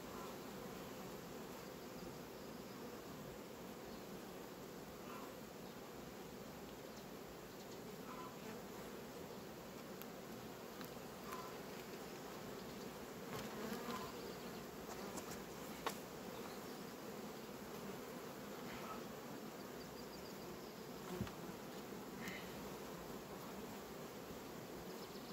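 Honeybees in an opened hive colony make a steady, dense buzzing hum throughout, close and even, with a few brief clicks of hive handling and no talk.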